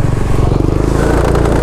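An MSI 125 motorcycle fitted with an Exos aftermarket exhaust accelerates, its engine note loud and close with a steady pulsing rumble that climbs slightly in pitch.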